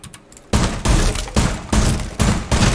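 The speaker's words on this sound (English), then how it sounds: "you could put a barricade up here and shoot out some leg holes" Bursts of gunfire in Rainbow Six Siege as shots punch holes through a barricade, loud close volleys of rapid rounds broken by short pauses, about five bursts in a row.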